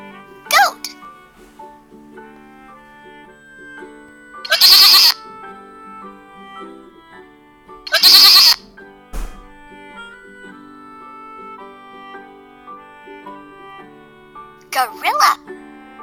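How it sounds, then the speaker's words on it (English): Cartoon goat bleating in a children's animal-sounds sequence: two loud, wavering bleats near each other, with short vocal bursts at the start and end over soft background music. "Goat."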